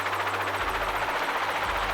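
A loud, steady helicopter drone with rapid rotor chop from the video game Psycho-Pass: Mandatory Happiness, close and continuous throughout.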